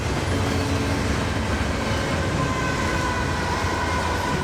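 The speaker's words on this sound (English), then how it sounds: "every hour or so the train comes by." A train rolls past on tracks beside a station in a loud, steady, broad rumble that fills the whole stretch without letting up.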